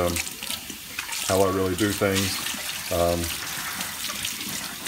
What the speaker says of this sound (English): cleaning it, simple, hot water, running it through there